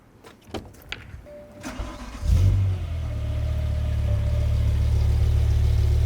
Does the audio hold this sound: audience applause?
no